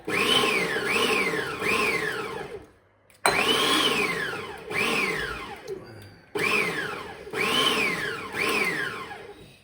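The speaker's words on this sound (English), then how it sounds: "it's going to get noisy because I'm blitzing the onion, garlic, and chilli" Loud close blender whirring as it blitzes onion, garlic and chilli, in three long pulses with rising and falling pitch swoops, separated by brief pauses.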